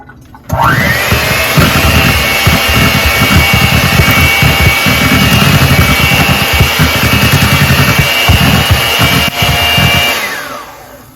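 A blender whirs through cooked sweet potatoes. It starts abruptly, runs at a loud, steady high whine for about ten seconds, then cuts off.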